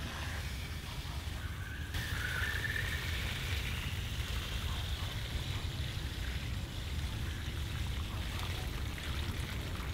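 Water pours into a large pot holding a Jerusalem artichoke in a garden, a steady soft splashing trickle that runs continuously and fairly quietly, with no voices.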